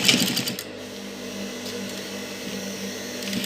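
Sewing machine running while stitching school uniform shorts for boys, a steady close whirring hum with a brief clatter at the start, then a continuous even drone.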